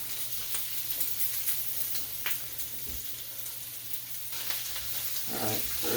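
Translucent onions frying for chicken bok choy with shiitake mushrooms, a steady close hiss of sizzling fat in a pan with occasional scraping stirs and a brief clatter near the end, no speech.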